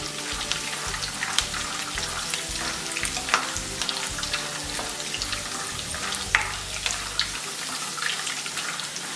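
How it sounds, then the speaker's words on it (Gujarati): Half a cup of raw peanuts sautés in oil in a pan, giving a loud, continuous sizzle. Crackling pops and scraping stir strokes recur throughout, with no voices. "હાફ કપ જેટલા અહીં આપણે મગફળીના દાણા એડ કરીશું। આપણે 1 થી 2 મિનિટ માટે સાંતળી લઈશું।"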